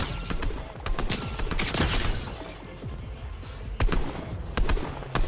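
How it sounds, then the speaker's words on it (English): Rapid bursts of AUG rifle fire in Fortnite, loud and close, with repeated sharp cracks and dense volleys running through the whole stretch and a few louder shots near the end. "I'm so not used to shooting an AUG anymore"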